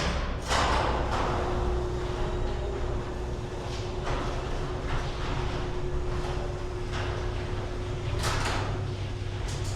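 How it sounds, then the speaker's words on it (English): Garage door opener runs continuously, a steady motor hum with a sustained tone and rattling, scraping bursts as the door travels, loud and close throughout. "15 decibels louder with the garage door opener."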